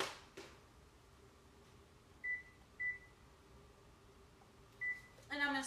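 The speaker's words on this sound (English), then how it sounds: "Now I'm going to set the timer for 10 minutes." A kitchen oven timer being set while roasting chickpeas and sweet potato, giving three short, clear electronic beeps spaced about half a second apart, then a quick rapid burst of beeps at the end over a quiet room.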